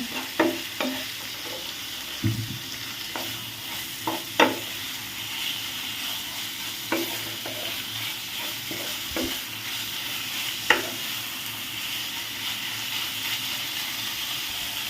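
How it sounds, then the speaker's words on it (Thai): Pork belly stir-fried in a pan with shrimp paste and stink beans, a steady low sizzle broken by scattered clacks and scrapes of a utensil against the pan, heard alone at moderate level. "ผัดนะคะให้หมูนะคะเขาเริ่มสุกนะ"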